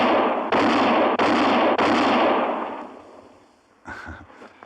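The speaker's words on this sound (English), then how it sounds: "that's mighty fine shooting, Mr. Kendall" Quick-draw gunshots ring out in a frontier radio drama: three or four loud, closely spaced blasts with a long rumbling echo fading out, then a smaller sharp burst.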